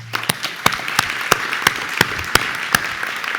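Sparse clapping at an alumni awards celebration, distinct individual claps at a loose, steady rhythm, fairly close and clear rather than a full roaring crowd.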